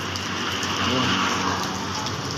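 Light rain patters steadily, a soft continuous hiss with scattered drops, fairly faint and with no voices.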